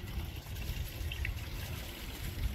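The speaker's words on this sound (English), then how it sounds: "Put some water down the guttering" Water poured from a watering can trickles and splashes steadily down a repaired gutter outdoors, a continuous close, moderately loud wash of liquid with no talk.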